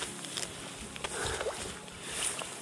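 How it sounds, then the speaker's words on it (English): A canoe paddle dips and pulls through the water of the Murray River, soft splashes and gurgles with a faint hull knock, quiet and close, with no voices. "Oh, I can't believe the paddling has begun."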